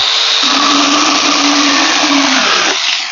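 A small cordless mini saw cuts through wood, making a loud, steady motor whine close by. The pitch shifts near the end as the cut finishes.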